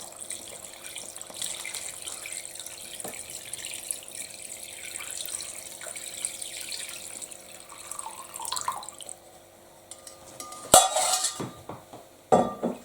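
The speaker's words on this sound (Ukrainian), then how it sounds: "Залили рибку водою, розсолом і закриваємо кришкою" Brine water is poured over salted mackerel in a container, a soft steady trickle and splash that runs for several seconds. Near the end come louder clinks as a lid or dish is handled.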